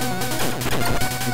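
In the Bionic Commando video game, a grenade launcher round explodes with a loud, harsh crash and broadband blast that lasts about a second. No one speaks over it.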